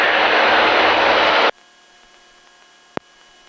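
A Mooney light aircraft in flight, its engine roaring as loud dense broadband noise for about a second and a half, then cutting abruptly to a faint hum with a single sharp click near the end.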